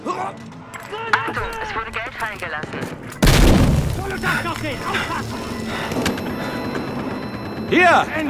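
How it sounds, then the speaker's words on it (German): A grenade blows up in the video game Battlefield Hardline with one loud, sudden boom partway through. Voices talk and game noise carries on before and after it. "Vorsicht, ich werfe eine Granate!"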